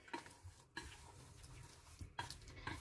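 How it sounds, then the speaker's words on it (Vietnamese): Shrimp are stirred with wheat flour in a bowl to coat them, making a steady run of soft scraping and clinking strokes up close, with no talk. "Mình trộn lên. Để cho bột nó áo vào con tôm."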